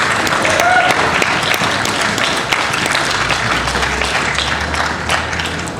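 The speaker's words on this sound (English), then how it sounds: "give yourselves a big round of applause" A crowd claps steadily at an outdoor political rally at the California State Capitol, with dense, sustained applause that stays loud and even throughout.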